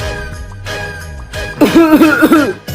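A few harsh coughs sound close by, followed by a louder, strained vocal stretch that may be exaggerated coughing.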